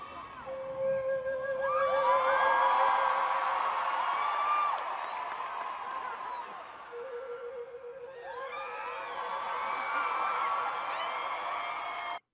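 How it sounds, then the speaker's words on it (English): A large concert audience claps and cheers for flute playing, a sustained crowd roar with whoops and shouts that dips briefly and then swells again before cutting off. "They down there applauding the hell out of this."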